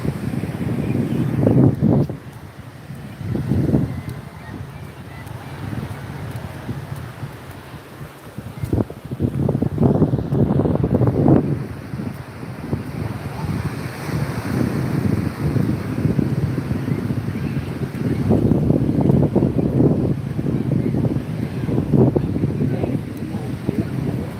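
Sea waves at Digha Mohona beach, with the tide rising in the rain, surge and break in repeated low rumbling swells, blown over by steady wind noise with a faint voice in places.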